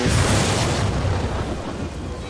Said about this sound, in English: Lightning crashes on the fence post,